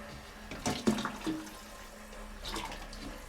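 Radiator water drains into a toilet bowl in uneven gushes, a close, gurgling flow with brief louder surges.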